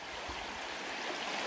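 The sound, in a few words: creek water flowing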